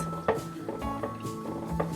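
Rice grains in rinse water swish and clink against a pot with a few quick stirring strokes, soft and close, with a faint tonal hum underneath.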